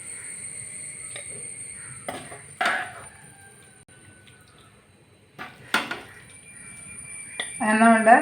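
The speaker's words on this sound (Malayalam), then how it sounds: "ഞാനതൊരു പാത്രത്തിലേക്ക് മാറ്റാം" Soya bean curry is moved from the cooking pot into a bowl, with a few sharp metal spoon clanks and scrapes against the pot, separated by quiet pauses and ending in a louder clatter.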